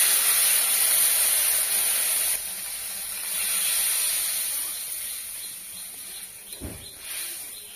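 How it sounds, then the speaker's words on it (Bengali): Fish broth poured into a hot pan of sautéed potatoes for a live snakehead fish curry, giving a steady close hiss of steam that softens partway through, with a brief thud of the pan near the end. "এখন আমি ঝোল দিয়ে দিচ্ছি।"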